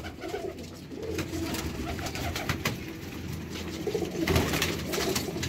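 Pigeons of a high-flying breed at a breeder's loft, cooing and calling continuously at moderate level amid steady outdoor background noise, with a slightly louder burst of calls near the end.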